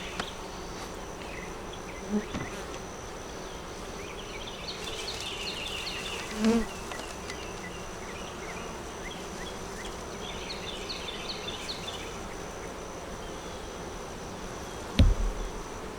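Steady buzzing of many honeybees at a hive fills the clip, a continuous drone with a few louder passes and small knocks, no talking.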